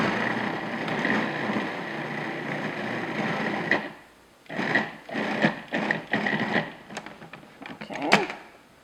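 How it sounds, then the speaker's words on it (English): A food processor whirs loudly and continuously as it blends cream cheese for a lemon tart, then stops and restarts in several short pulses that end in a clatter. "I'm just going to process this until it's nice and creamy and smooth."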